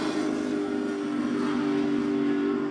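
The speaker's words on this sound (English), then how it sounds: "Nothing but limiter. Rev it to the moon." A drift car engine, a JMR G40SX in a pro drift qualifying run, screams steadily against the rev limiter, a loud sustained high-pitched drone with a slight rhythmic bounce, close and unbroken for the whole stretch.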